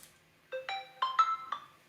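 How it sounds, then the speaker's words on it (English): A mobile phone ringtone plays a short melodic run of five bright electronic notes, loud and clear over a near-silent background with no talk. "Oh, my phone is ringing."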